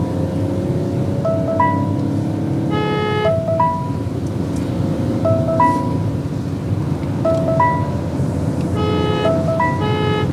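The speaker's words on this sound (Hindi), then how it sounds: "आपको हॉर्न मैं इसलिए दे रहा हूँ ताकि ये भी साउंड आए आपको कि बहुत अच्छा इसका हॉर्न है।" A new Peugeot car sounds its horn in several short bursts, some doubled, over a steady rumble of engine and road noise inside the moving vehicle.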